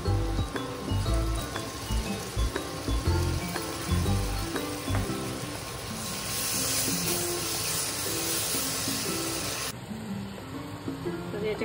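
Garlic-ginger paste sizzles in hot oil over browning onions for pav bhaji, a steady broadband hiss that carries on throughout with faint clinks and scrapes, brightening partway through.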